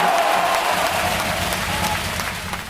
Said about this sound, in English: The crowd's loud, intense,